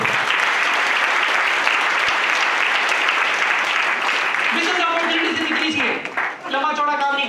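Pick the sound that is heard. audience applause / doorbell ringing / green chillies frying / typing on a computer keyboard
audience applause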